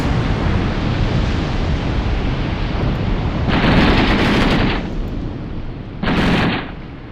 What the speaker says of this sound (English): Dropping bombs. 4 bombs.